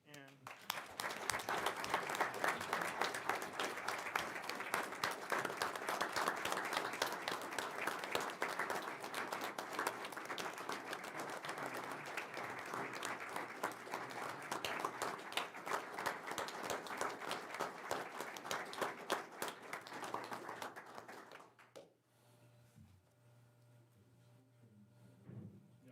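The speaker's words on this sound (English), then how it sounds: "let's give him a round of applause" A meeting room crowd stands and applauds steadily for a retiring police chief, sustained clapping for about twenty seconds before it stops abruptly, leaving quiet room tone.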